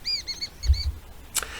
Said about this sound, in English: looking for this special bird here called the rock pratincoll